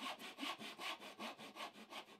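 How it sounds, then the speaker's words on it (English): A hand saw cuts down through wood to a gauge line in quick, even strokes, giving about ten rhythmic rasping pushes and pulls that sound close but fairly quiet with no speech. "When you go straight in and saw down"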